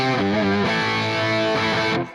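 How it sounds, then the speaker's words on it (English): Distorted electric guitar processed through a pitch shifter on a Neural DSP Nano Cortex, sustained harmonic chords with a shifted layer blended in, loud and steady for about two seconds before cutting off. "So that's the pitch shifter."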